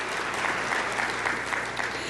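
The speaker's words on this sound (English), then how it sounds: "join me in a round of applause and thank our elected officials" Sustained audience applause at a regional chamber of commerce network meeting, honoring elected officials; dense, steady clapping from a full room, moderately loud and even throughout with no voices over it.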